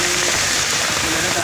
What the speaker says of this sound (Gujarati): જોરદાર ભારે વરસાદ પણ ચાલુ થઈ ગયો